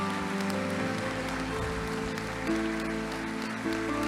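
Church congregation applauding: a dense, steady wash of clapping that holds evenly throughout, with a sustained organ or keyboard tone underneath.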